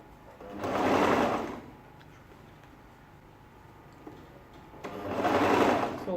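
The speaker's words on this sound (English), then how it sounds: "So all what I'm doing is just sewing round." A sewing machine stitches a ladies shirt dress in two bursts of steady whirring, near and fairly loud, separated by a quiet pause, with no talking.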